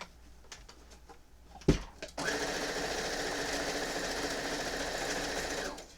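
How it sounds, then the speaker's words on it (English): After a couple of soft clicks and a thud, a sewing machine stitches fabric in one steady, even run of close mechanical whirring that lasts about four seconds, then stops. "I'm going to sew a few more."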